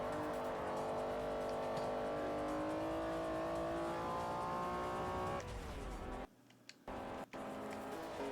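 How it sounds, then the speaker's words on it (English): A high, rising VTEC engine whine from a revving car in the video game Forza Motorsport 4 climbs steadily, then drops off abruptly, with brief near-silent gaps near the end. "Listen to that VTEC whine"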